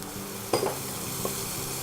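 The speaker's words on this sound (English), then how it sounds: "Just get those spices frying." Cumin and chilli spices frying in a pan give a quiet, steady sizzle, with a spoon or spatula briefly stirring and scraping partway through.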